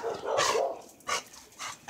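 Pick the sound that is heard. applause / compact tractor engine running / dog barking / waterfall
dog barking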